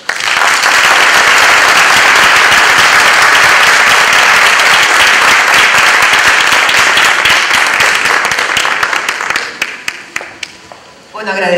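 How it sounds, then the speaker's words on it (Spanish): Sustained applause from a conference audience for a panel of four speakers, loud and dense with many individual claps, thinning out near the end as the clapping tapers off. "Fuertes aplausos para los cuatro, por favor."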